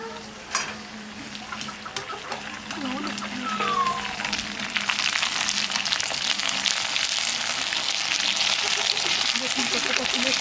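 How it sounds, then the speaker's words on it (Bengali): Fuchka puris frying in hot oil, a steady crackling sizzle that grows denser and louder after the first few seconds, with faint stirring and a voice speaking briefly early on. "ফুচকা ভাজার জন্য এখন তেল ঢেলে দেব।"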